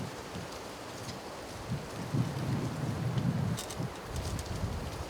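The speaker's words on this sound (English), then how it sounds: "Oh, this wind." Gusty wind buffeting outdoors at a winter carp fishing session on a lake, low rumbling blasts that swell and fade, loudest midway, with nothing else prominent.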